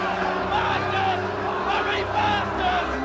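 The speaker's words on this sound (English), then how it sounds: "And no doubt here the crowd's reaction to that." A cricket crowd at a Bodyline-era Ashes match reacts after a batsman is struck a nasty blow to the midriff, a steady roar of shouts and jeers that holds throughout.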